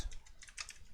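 Quick run of computer keyboard keystrokes while writing Python code for a rock-paper-scissors program, a close, light clicking patter with no speech.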